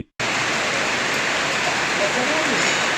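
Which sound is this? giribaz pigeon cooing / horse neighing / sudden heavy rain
sudden heavy rain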